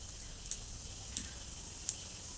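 Garlic sizzles in a hot pan, a soft continuous hiss broken by three light ticks at regular intervals, close and quiet with no talking.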